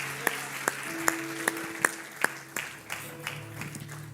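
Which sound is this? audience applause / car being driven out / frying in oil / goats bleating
audience applause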